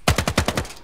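Automatic rifle fire in the tactical shooter game Ground Branch, a quick burst of about six sharp, loud shots in rapid even succession.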